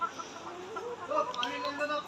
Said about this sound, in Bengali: তো এই হচ্ছে আমাদের এইখানকার মুরগির শেডের ভিডিওটা